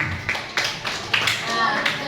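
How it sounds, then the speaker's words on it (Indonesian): A few scattered hand claps from a classroom of students applauding a classmate, short uneven bursts mixed with a teacher's talk. "Tepuk tangan dong untuk Bintang."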